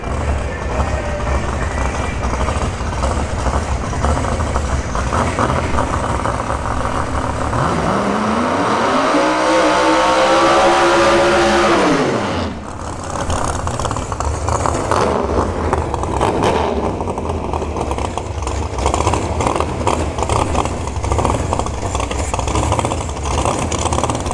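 Drag racing car Gold Digger roars down the strip at Bradenton Motorsports Park during Battle in the Bay 6, its engine note climbing sharply for several seconds before cutting off, with a commentator talking over the crowd and track noise.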